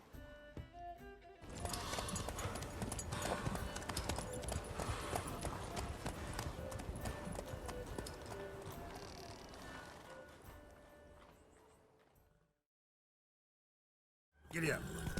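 Horse hooves gallop in The Witcher 3 as a steady, loud clip-clop rhythm fills most of the stretch, fading out into a long silence before a sudden burst of sound returns at the end.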